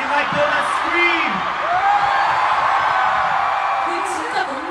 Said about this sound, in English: If you like donuts, scream.